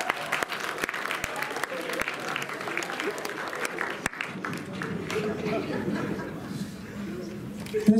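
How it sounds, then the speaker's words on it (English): Audience applause at a high school show fills the room, steady and dense clapping with some chuckles and chatter mixed in, easing slightly toward the end while voices murmur underneath. "Let's give him a round of applause."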